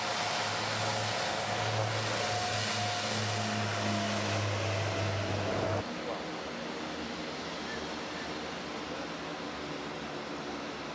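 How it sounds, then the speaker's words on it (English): An evacuation helicopter on a trek toward Everest Base Camp, its steady engine drone and low rotor hum loud for the first half, then dropping to a fainter, more distant rumble of wind and engine noise. "This type of helicopter is used for most evacuations."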